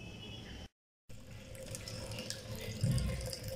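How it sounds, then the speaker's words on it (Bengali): Tap water runs steadily over aloe vera leaves being washed in a sink, a close, even rushing stream broken by a short silent gap early on. "এবার আমরা অ্যালোভেরাটাকে সুন্দর করে ধুয়ে নিচ্ছি।"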